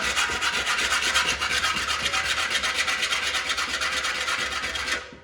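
A motorcycle fuel tank surface is scrubbed clean with loud, continuous close rasping strokes in a fast steady rhythm, stopping abruptly near the end.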